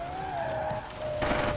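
A Lexus LFA in Forza Horizon 4 skids through a corner, its tires squealing in a long, steady high whine over the engine's roar, rising into a rougher scrub near the end.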